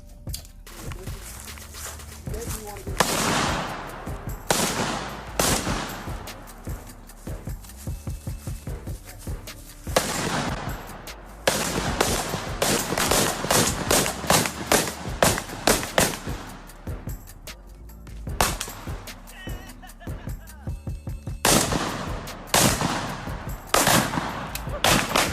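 AR-15 rifle fire comes in loud, sharp bursts of rapid shots with short pauses between strings, close up and echoing at an outdoor range.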